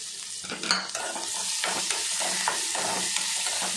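Onions and pineapple sautéing with curry leaves and salt for a pineapple buttermilk curry, with a continuous hiss of frying and regular scraping stirs of a spoon in the pan, close up and with no voices.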